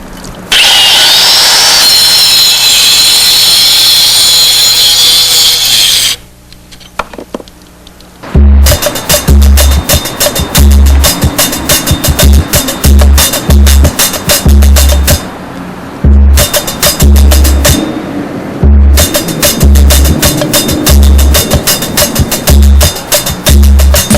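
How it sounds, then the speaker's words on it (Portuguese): A special power saw cutting concrete masonry blocks on a building site, first a loud sustained grinding cut, then a pause and repeated rhythmic bursts of harsh cutting, very loud and close, with no talking. "Existe uma máquina especial para cortar blocos, mas tem que usar com cuidado."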